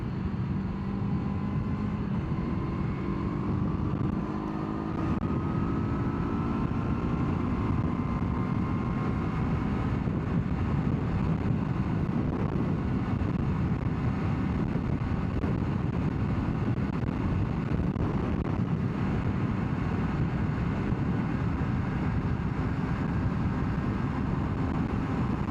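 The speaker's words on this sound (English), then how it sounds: "Lots of wind, trying to be a little aerodynamic here." Wind roars past a rider on a Yamaha MT-03 motorcycle at speed. The rush is dense and unbroken, filling the whole stretch at a constant level, with a faint engine tone buried beneath.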